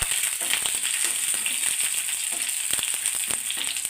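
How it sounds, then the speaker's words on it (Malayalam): Dried red chillies fry in hot oil with curry leaves for a coconut chutney curry, giving a steady, close, crackling sizzle with small pops and no voices. "നമുക്ക് അതിനകത്തോട്ട് രണ്ട് മൂന്ന് ഒന്ന് വറ്റലുമുളകൂടി ഇടാം"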